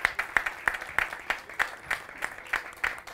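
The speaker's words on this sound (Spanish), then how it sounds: "Bueno, un aplauso." An audience at an olive oil awards ceremony in Tenerife claps in a steady round of applause, moderately loud and close, with a faint murmur of voices underneath.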